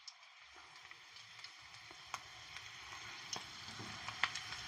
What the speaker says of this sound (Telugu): ఇవి ఇగో ఎల్లిపాయలు కూడా ఇట్లా వేపుకునాలి